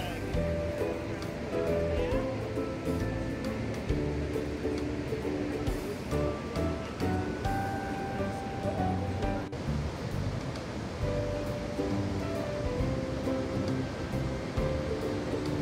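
Roaring water at Niagara Falls heard from a boat taken close to the base of the falls, a steady broad rush like heavy surf with wind buffeting, while a person talks over it.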